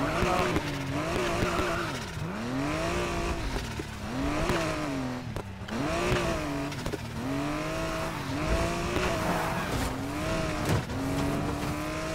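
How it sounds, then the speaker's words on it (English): A stock pink Mazda Miata driven hard, its engine revving up and down in repeated sweeping pitch changes with shifts and brief tire noise, steady and close throughout the stretch. "A pink stock Miata, bro. They always go this fast, dude."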